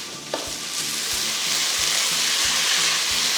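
Frozen mixed vegetables of carrot, corn and green peas sautéing in a pan, a steady close sizzle with a soft stirring scrape repeating every half second or so.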